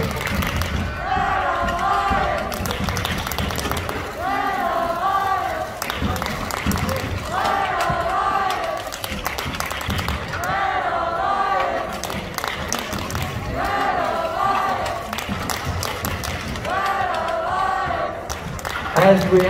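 Crowd noise swells and cheers at a robotics competition final match, a steady roar with recurring bursts of excitement, loud and continuous with a voice talking over it throughout.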